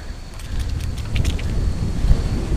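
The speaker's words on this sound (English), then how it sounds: "it's windy" Wind buffets a microphone during a night bicycle commute around 9 p.m., a steady low rumble with gusty swells, and faint traffic noise beneath it, no talking.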